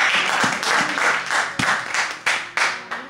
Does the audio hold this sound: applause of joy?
yes